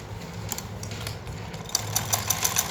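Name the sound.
sewing machine stitching pajama fabric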